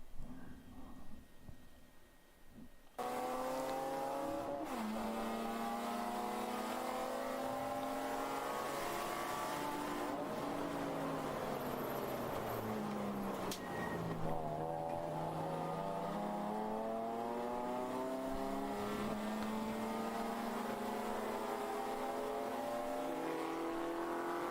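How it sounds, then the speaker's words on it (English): Race cars on the endurance track at Daytona, engines revving and accelerating through the gears in long rising sweeps, several cars overlapping, loud and close with no talking. "Mini Cooper comes around the outside, gets a nice run up the hill there, and I think Paul didn't get quite the exit"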